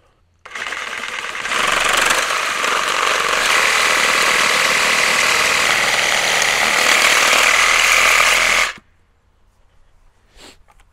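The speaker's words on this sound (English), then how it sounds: "Then just need a Sawzall with the metal cutting blade." Milwaukee Sawzall fitted with a metal-cutting blade saws through a housing on a Woodland Mills WC68 wood chipper mounted on a Kubota L4060 tractor, a loud, steady buzzing cut running about eight seconds close by before stopping abruptly.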